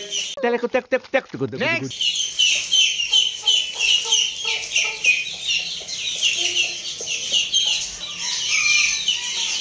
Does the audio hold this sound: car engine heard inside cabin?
no